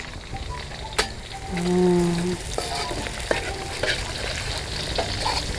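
Curry leaves and onions sautéing in hot oil in a pan, a steady sizzle with scraping stirring strokes and occasional clacks of a utensil, and a brief tonal hum partway through.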